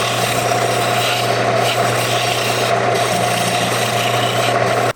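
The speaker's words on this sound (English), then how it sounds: "I'm just going to take a scraper and kind of flatten out the bottom." A scraper works the bottom of a spinning end grain maple bowl on a lathe, giving a steady, loud abrasive rasp over a constant motor drone. The sound stops abruptly at the end.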